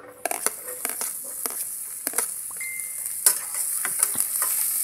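Garlic and onion sautéing in a pan, heard as a bright, continuous sizzle punctuated by close scraping and clacking as a utensil stirs, with no talking.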